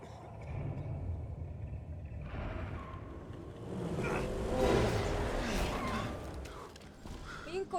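Car engine rumbling and revving in The Walking Dead: The Telltale Definitive Series video game, a low droning swell that builds mid-clip beneath people talking.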